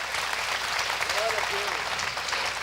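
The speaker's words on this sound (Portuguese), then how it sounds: "É para Ele, pode aplaudir." A church congregation applauds in a dense, steady wash of clapping, with faint voices rising briefly within it.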